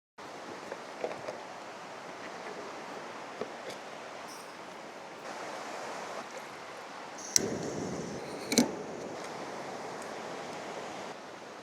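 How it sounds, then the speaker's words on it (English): A waterfall at a campsite in the Oregon Coast Range pours as a steady, broad wash of rushing water, with a few brief knocks and clatters close by. "It is so nice to wake up and have a waterfall right in front of you during coffee time."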